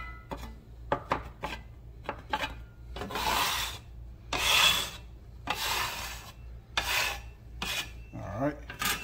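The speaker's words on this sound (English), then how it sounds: "let me get my bench scraper and we're gonna move them onions over to the side" Bench scraper pushing onions across a smoker cooking surface while making meatloaf, heard as repeated broad rasping scrapes in irregular bursts, fairly close and moderately loud, with no talk.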